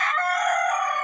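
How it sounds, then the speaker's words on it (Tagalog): A rooster crows in a single loud, drawn-out call at close range, with no other sound. "Ayan, ang mga manok."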